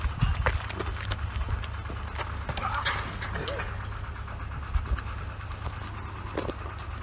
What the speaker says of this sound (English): let's check out these horses